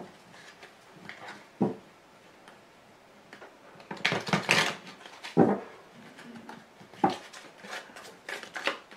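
Tarot cards being shuffled give soft, scattered rustles and short flicking bursts, irregular and close, with brief pauses between handfuls.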